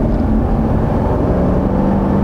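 A Chevrolet Corvette idles in eco mode, giving a low, steady, muted engine rumble with no exhaust bark, heard close and alone.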